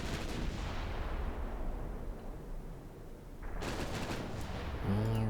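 Naval gunfire from the warship Sigurd in Ultimate Admiral: Dreadnoughts, heard as a dense rumbling roar of artillery that fades and then swells again with a fresh volley near the end.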